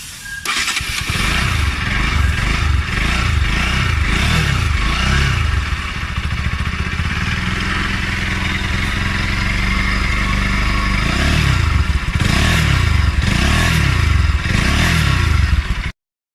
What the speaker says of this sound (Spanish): tú prendes la moto para que el aceite se distribuya por todos los conductos, para que empape el filtro nuevo.